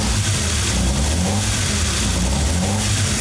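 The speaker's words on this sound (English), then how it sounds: "it is actually not very surprising that the car starts now" A Fiat Dino Spider's engine running and revving up close, a loud, continuous low rumble that swells and holds steady through the short stretch, with no talking.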